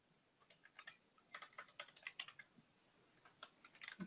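Fingers tapping a computer keyboard in irregular bursts of quick clicks with short pauses, close and fairly quiet, without talking.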